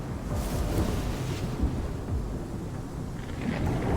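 Steady heavy rain with a deep, continuous rumble of thunder rolling underneath, dense and loud throughout.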